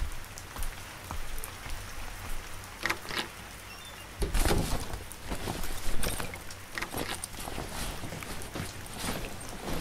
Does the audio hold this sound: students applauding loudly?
no